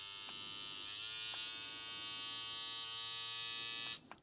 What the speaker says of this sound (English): Clipper on low speed.